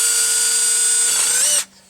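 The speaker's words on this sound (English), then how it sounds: "I would recommend pre-drilling your holes and then you can screw it together." Power drill driving a screw into an extension door jamb: one short, loud, steady whine whose pitch shifts slightly near the end before it stops abruptly.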